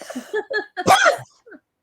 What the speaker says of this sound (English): So excuse me for coughing.